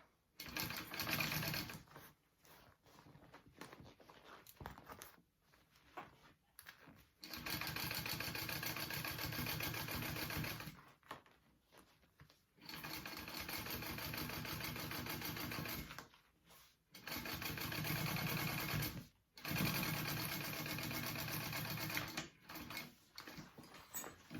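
A sewing machine top stitches a seam in several bursts of steady mechanical whirring. Short pauses fall between the runs, and no voices are heard.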